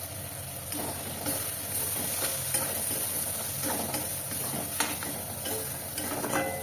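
Spice paste and two green chillies fry in a pan for a spinach and pea malai curry, giving a steady close sizzle with scraping stir strokes and light clinks throughout, no voices.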